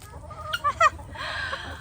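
A few quick, soft clucks from nearby chickens, followed by a low murmur of more birds in the background.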